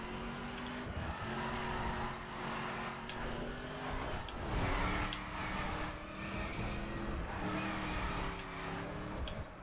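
Game car drifting in The Crew Calling All Units, with a steady loud engine drone and shifting revs carrying across the whole stretch, plus brief sharp bursts that fit tire squeal.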